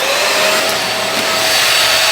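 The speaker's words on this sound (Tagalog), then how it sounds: "Tayo'y mag-vacuum." Household vacuum cleaner running at home, a loud steady whining roar close by that holds throughout and cuts off abruptly at the end, with no talking.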